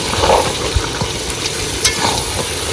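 Potatoes frying with a fish-head masala in a pan, a dense, loud sizzle running throughout, with occasional soft clunks and scrapes as the mixture gets stirred, close and without voices.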